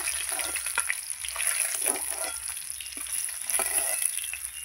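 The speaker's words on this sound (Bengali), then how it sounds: "সব মাছ আমার ভাজা হয়ে গেছে।" Chela fish fry in hot oil in a kadai, a loud, continuous close sizzle and crackle with faint scraping from turning the pieces, no talk.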